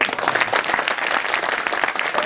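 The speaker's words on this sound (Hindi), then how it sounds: "आप लोगों ने ताली बजा दी" Audience at an all-India Urdu mushaira in Gogawa breaks into dense, steady applause, many hands clapping together at a sustained, fairly loud level throughout.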